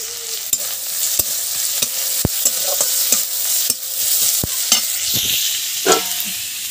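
Onions frying in a pan for tarka (Bengali lentil dish), with steady sizzling throughout and a spoon or spatula repeatedly stirring and scraping against the pan in irregular sharp taps.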